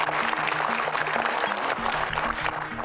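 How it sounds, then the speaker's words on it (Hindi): Studio audience clapping on a Hindi television show, steady dense applause running throughout over a rhythmic low musical beat. "तालियां"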